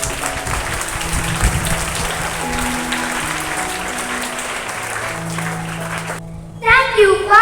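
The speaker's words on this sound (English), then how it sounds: "Let's give them a big round of applause" School assembly audience applauding students, continuous dense clapping with children's voices mixed in for about six seconds, then cutting off as an adult voice begins speaking at the end.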